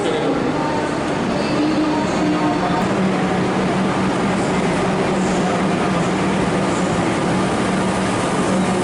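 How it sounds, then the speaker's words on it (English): Melbourne suburban train rumbling steadily from the inside, with continuous rail noise and no distinct clicks or talking. "Our final train."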